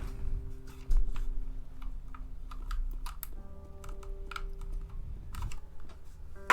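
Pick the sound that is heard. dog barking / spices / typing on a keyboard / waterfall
typing on a keyboard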